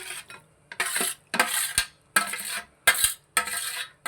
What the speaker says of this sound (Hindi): अब मैंने तमाम सब्जियां इसके अंदर मिक्स कर देनी है।